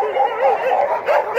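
Several dogs bark and yip in an outdoor enclosure at a shelter on a rainy, cold day, a continuous close chorus of overlapping high, whining barks.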